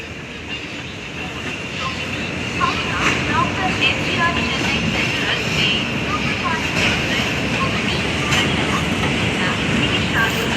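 A train rumbles steadily past with rhythmic rail clatter and a broad mechanical roar, voices faintly audible beneath.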